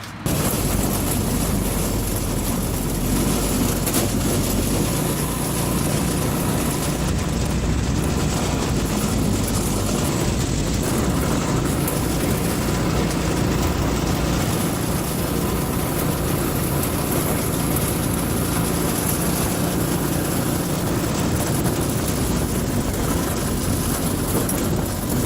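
A go-kart with a swapped-in Predator 212cc engine runs steadily and loudly throughout, a continuous close engine drone with no talking.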